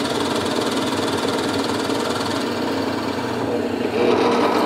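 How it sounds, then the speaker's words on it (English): A drill press bores a 3/4-inch hole with a Forstner bit, giving a continuous, close motor hum with a buzzing, vibrating edge that grows slightly louder near the end. "we'll go to the drill press and we'll drill a 3/4 inch hole with a Forstner bit about halfway"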